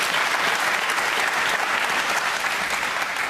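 Studio audience on a televised political debate panel in London breaking into sustained applause, a thick, even roar of many hands clapping with no pauses.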